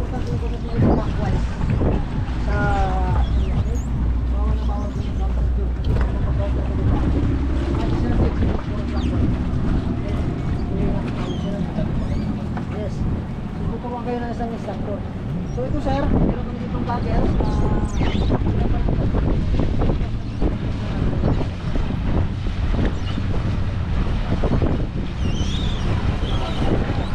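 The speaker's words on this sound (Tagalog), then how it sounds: "Stop the engine." A jet ski engine drones steadily across the water off Boracay, buffeted by heavy wind noise throughout, with voices talking over it.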